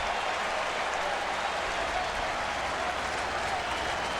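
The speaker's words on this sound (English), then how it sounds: "And listen to this crowd. It's like an English Premier Soccer game." Baseball stadium crowd at a 2007 playoff game between the New York Yankees and Cleveland Indians, a dense, loud, sustained roar of cheering and clapping with no breaks.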